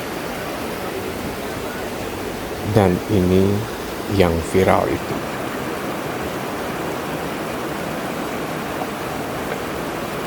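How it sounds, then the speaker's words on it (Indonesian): Steady broadband rush of the Cihonje River flowing in Sumedang, a constant wash of water filling the whole clip, with someone speaking briefly over it near the middle. "Apalagi ini dia Sungai Cihonje."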